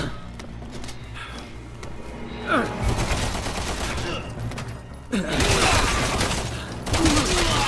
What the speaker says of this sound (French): On me tire dessus, là!